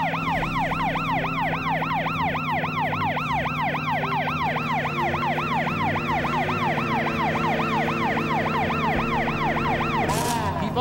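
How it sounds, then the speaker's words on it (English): A police car siren in the Tonka Rescue Patrol video game wails in a fast, steady up-and-down yelp that runs loud and continuous over a low engine drone. "Use the police car's siren and bullhorn to round up the straying snowmobiles."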